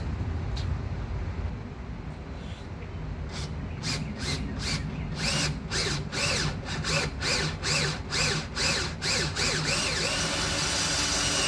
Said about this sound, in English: So I'm just going to use this drill bit